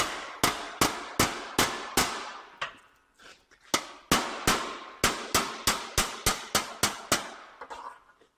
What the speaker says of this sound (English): There's the hammer.